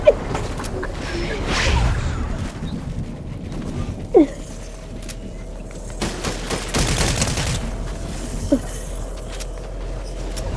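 Gunfire in Fortnite rings out in scattered bursts and single shots against game background noise, with footsteps and movement sounds between volleys.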